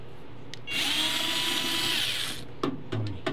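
A power drill or electric screwdriver whirs steadily for under two seconds while backing screws out of an electronics casing on a repair bench with a TV and CD player, followed by a few soft clicks and handling knocks.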